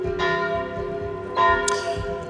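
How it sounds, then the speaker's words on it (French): A church bell tolls by the Loire at Saint-Dyé-sur-Loire, with two clear strikes over a lingering, resonant hum and a brief high bird chirp between them. "là oui on entend surtout les cloches"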